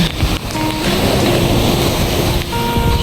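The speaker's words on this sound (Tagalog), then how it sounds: "Ang laki ng alon." Large ocean waves break and surge continuously on a beach, a loud, full roar with wind buffeting the microphone and no voices.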